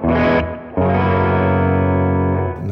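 Electric guitar through a Friedman amp model on a Valeton GP200 multi-effects unit: a loud, distorted chord struck, briefly cut, then struck again and left to ring out for about two seconds, alone with no talk.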